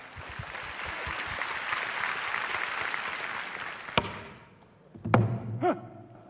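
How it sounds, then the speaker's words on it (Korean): Audience applause greets a pansori performance at a literary award ceremony, a steady dense clapping for about four seconds that fades out, followed by a few sharp knocks and thumps. "축하 무대 큰 박수로 맞이해 주시길 바랍니다"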